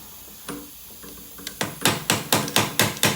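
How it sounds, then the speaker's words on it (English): A hammer taps a Buick Enclave strut, a few light hits at first, then a quick even run of sharper strikes, close by. "Grab my hammer and just a few gentle taps, nothing forceful."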